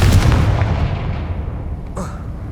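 The Confringo fire spell explodes in the video game Hogwarts Legacy, a loud, booming blast that rolls and fades over a couple of seconds, followed by a faint high magical chime.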